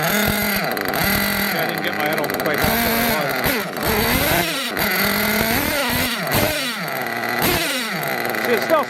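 A tuned nitro engine on a radio-controlled model buzzes with a raspy, fluctuating drone while someone talks over it close by.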